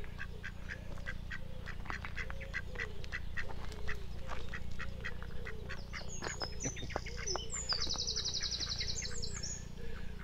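Ducks quacking along a riverside walk at New Alresford in Hampshire, repeated calls from several birds at close to middle distance over a steady background hum, with brief chirps of small birds joining in toward the end.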